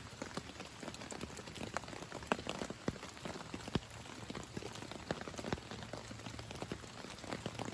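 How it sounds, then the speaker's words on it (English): Steady rain patters on a riverside hammock camp during a storm, a dense continuous hiss with scattered sharper drops striking close by, heard alone without voices. "I wanted y'all to hear it's raining"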